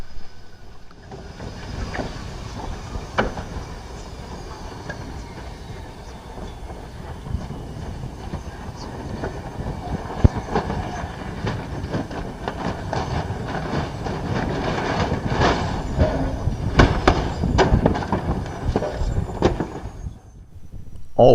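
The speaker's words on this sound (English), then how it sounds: "this is helicopter ground resonance" Helicopter ground resonance, a shaking, rattling vibration with a rumbling low roar and scattered sharp clatters, growing louder over about twenty seconds before cutting off abruptly.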